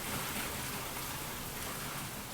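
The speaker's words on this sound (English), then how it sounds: "Wow, it's really raining." Heavy rain pours down in a dense, steady hiss that fills the whole stretch without pause, no voices over it.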